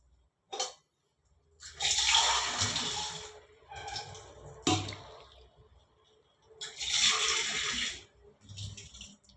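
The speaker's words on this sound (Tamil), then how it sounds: "ரெண்டு கிளாஸ் தண்ணி ஊற்றிருக்கேன்." Water is poured from glasses into a cooking pot in a home kitchen, two bursts of splashing and gurgling separated by short pauses, close and fairly quiet, with no talking.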